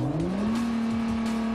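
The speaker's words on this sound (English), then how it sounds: "Hard launches generated heavy rear wheel spin on the slick airstrip." A Nissan GT-R makes a hard launch on a slick airstrip, its engine note rising steadily and loud as the rear tires spin, with no voices.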